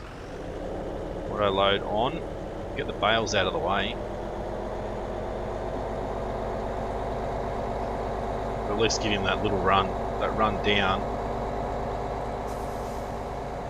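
A truck engine drones steadily in the farming video game Marwell Manor Farm, a low continuous hum running throughout, with someone talking over it in two bursts.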